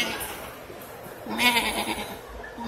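A goat bleats close by at a county fair, a wavering nasal call partway through, over quiet background rustle.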